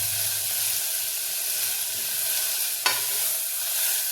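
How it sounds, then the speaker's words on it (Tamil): Peeled small onions with rock salt sauté in a pan for sambar, a close, steady hiss of frying broken by a sharp scrape or stir near the end, with no one speaking. "இந்த உரிச்சு வச்சுருக்கிற சின்ன வெங்காயம், இதெல்லாம் சேர்த்து நம்ம ஒரு 2 நிமிஷம் வதக்கி வைக்கணும்."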